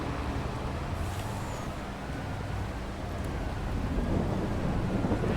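Steady rain and storm ambience in the farming video game Farming Simulator 22, a continuous broadband wash of falling rain with a low rumbling undertone that swells slightly toward the end, with no voices.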